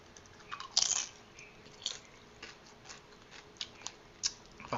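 Crunchy cassava chips bitten and chewed close up, a sharp crisp snap followed by a string of lighter irregular crunches, fairly quiet and with no talk.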